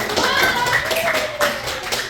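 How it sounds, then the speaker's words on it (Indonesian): Children in a classroom clap together in a short burst of scattered claps, fairly close, with a few voices mixed in. "tepuk tangan untuk teman-teman"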